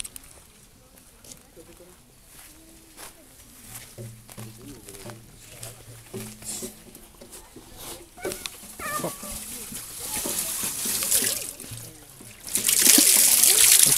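Water trickles and splashes while being collected at the VDNKh exhibition grounds, starting faint and building into a louder, steady gush toward the end, with a dog whimpering and people moving nearby.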